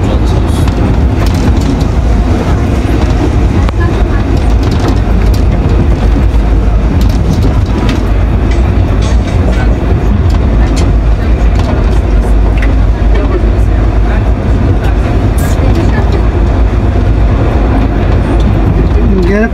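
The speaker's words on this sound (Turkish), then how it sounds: "Karşıdan vagon geliyor arkadaşlar. Vagon." A train wagon rumbles through a tunnel as a steady, loud, dense roar that holds the whole stretch with no break and no clear approach build, and voices talk faintly under the noise.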